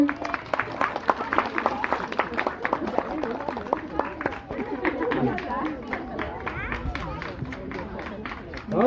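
Children and parents at a Telugu school picnic in Edmonton clap together outdoors, a scattered patter of hands running through lively crowd chatter and voices talking over it.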